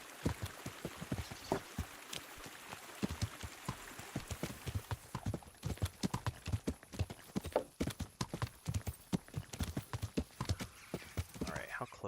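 A horse gallops in the video game Kingdom Come: Deliverance, its hooves drumming in a quick, uneven run of hard clip-clops that stay close and loud.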